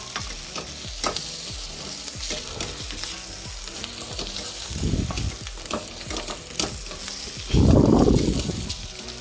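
Pork stir-fries in a hot pan, sizzling steadily while a utensil scrapes and tosses it in repeated strokes, with louder bursts of frying as the meat is mixed; no voices.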